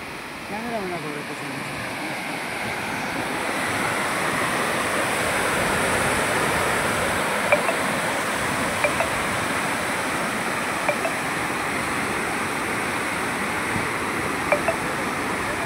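Water rushes over the spillway of the brimful Manar dam in a continuous, broad roar that builds slightly after the first few seconds, with a voice speaking near the start and occasional small clicks on top.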